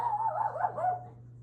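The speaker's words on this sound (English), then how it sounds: "That's my dog, everybody." A dog close by gives a short run of whining, yelping vocalizations indoors in a home bedroom, lasting about a second over a steady low hum, with no talk.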